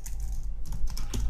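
Quick, close clicks of a computer keyboard as someone types a command in a Linux terminal to edit the bashrc file, a dense burst of keystrokes over a steady background hum.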